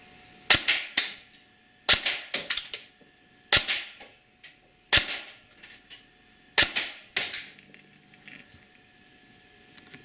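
An airsoft gun fitted with a Gate Titan drop-in MOSFET trigger fires single shots, with sharp snapping reports arriving in quick bursts of two or three and short pauses between them, close and clear with no talking.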